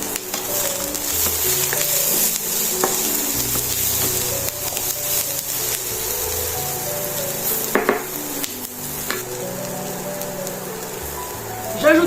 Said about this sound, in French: Je vais ajouter mes pommes de terre à dorer un petit peu